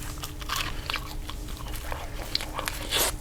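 A bite is taken into a hot, melted-cheese Hot Pocket, giving close, crisp crunching and chewing sounds over a few seconds.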